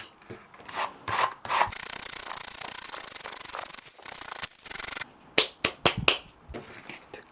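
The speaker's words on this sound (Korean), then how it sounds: "사포질로 마무리" Sandpaper rasps against the edge of hand-tanned ostrich leather, a close, dry scrubbing that runs steadily for a few seconds, then breaks into short, quick strokes.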